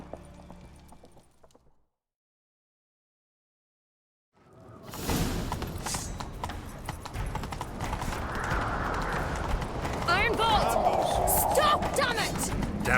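Horses gallop in a chase in the video game The Witcher 3, their hoofbeats rushing in a continuous loud stream after a brief silence, with game music and effects layered over them.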